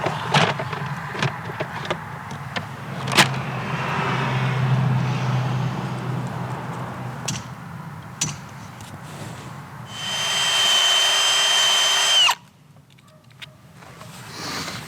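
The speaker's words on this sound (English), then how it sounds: "Today's all about tapping the trees" A power drill bores into a black walnut tree to tap it for syrup outdoors, with a loud steady whirring burst near the end, preceded by scattered knocks and handling noises.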